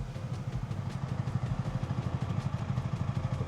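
A motorcycle idles and revs right beside a Tesla Model 3 with its window open, its engine thrumming steadily and close, with a rapid pulsing rhythm throughout.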